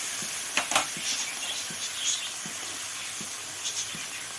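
Ground spices with a splash of water hit a hot pan while mutton keema ghugni cooks, giving a soft steady sizzle broken by a few faint taps and stirring clicks, with no talking.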